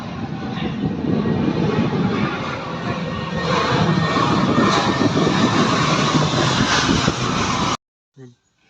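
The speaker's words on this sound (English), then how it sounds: "Probably hear another plane coming." A loud airplane roars overhead during house construction in Phetchabun, Thailand, with a continuous broad rumble, building slightly and then cutting off abruptly, followed by a brief faint noise.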